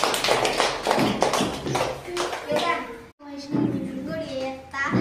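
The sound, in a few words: children clapping at a school farewell event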